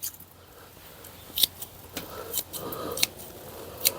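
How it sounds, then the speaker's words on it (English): Scissors snip at Monstera plant roots in a handful of sharp, close clicks spaced irregularly over a quiet background. "I'm going to trim the root a lot."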